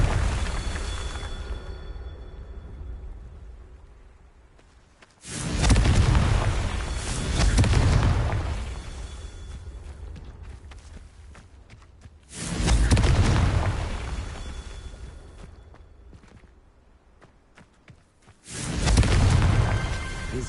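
Confringo blasting-spell explosions in the Hogwarts Legacy video game go off as three loud, booming bursts spaced several seconds apart, each with a rumbling tail that fades before the next blast.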